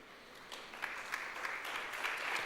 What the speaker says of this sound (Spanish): Si es para el Señor, que sea fuerte el aplauso.